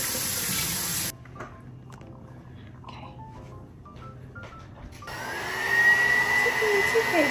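Tap water runs steadily into a sink or basin while a kitten gets its first bath, the flow starting loud, dropping to a softer trickle, then surging again near the end, with people talking over it.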